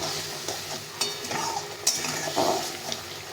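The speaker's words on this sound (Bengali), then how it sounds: "তেল ছাড়া অবধি ভালো করে কষিয়ে নিতে হবে।" A spice mixture sautés in oil in a pan, with a quiet background sizzle broken by a few stirring knocks and scrapes of a spoon against the pan, no voices.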